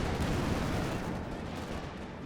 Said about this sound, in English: Wolverine's opening fire on the Panzer IV